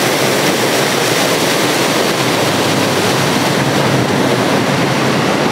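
A mountain waterfall on the road from Sarahan to Sangla in Kinnaur rushes close by, a loud, steady broadband roar of falling water with no voices.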